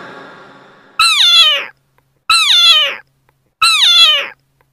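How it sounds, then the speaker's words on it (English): A cat meows three times in close, loud, evenly spaced calls. Each meow is drawn out and falls in pitch, following a brief tonal sound at the start. "C for cat"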